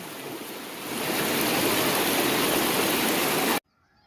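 Water of the Kosi river rushes loudly and steadily near the Girija Devi temple, swelling slightly after the first second, then cutting off abruptly into near silence.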